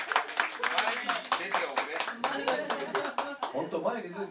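Audience clapping at a live concert show, a burst of hand claps in support of a performer's mother, with a speaking voice running over the applause throughout.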